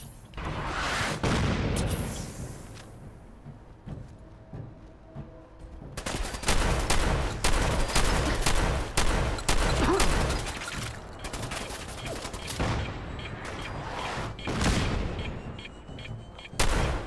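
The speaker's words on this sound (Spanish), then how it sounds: "están tirando artillería, al final, están tirando artillería" Artillery fire in the video game Fallout 4: repeated loud booms and rapid bursts of gunfire stack into a dense barrage that swells and fades across the scene.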